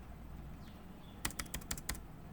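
Short burst of typing on a computer keyboard: about six quick, close key clicks in an even rhythm, following a moment of quiet room hum, with no voices.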